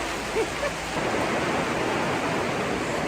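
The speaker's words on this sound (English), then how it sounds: "That's a lot of rain." Dense, steady heavy rain drums hard on a polytunnel's thin covering overhead, a continuous close hiss with no pauses, loud and enveloping.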